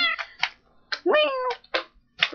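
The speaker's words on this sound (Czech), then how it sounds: "A máme tady malinkou kočičku." A tamed ocelot kitten in Minecraft gives a series of short, high meows, about six in quick succession with brief gaps, close and clear against silence.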